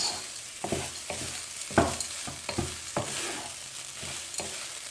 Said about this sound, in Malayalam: നന്നായിട്ട് എല്ലാം കൂടി മിക്സ് ചെയ്ത് കൊടുക്കാം